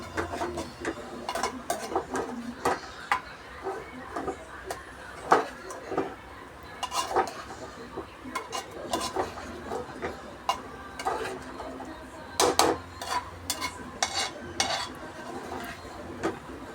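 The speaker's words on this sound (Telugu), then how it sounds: "ఇప్పుడు మళ్ళీ కలపాలి" A spoon stirs food in a pot after ginger-garlic paste goes in, giving repeated irregular scrapes and metallic clinks. A faint sizzle sits underneath, close and moderately loud, with no talking.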